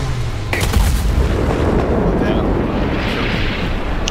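Heavy gunfire from the game A Way Out fills the stretch as a loud, continuous roar of shots and blasts, with a few sharper cracks near the start and a voice shouting over it.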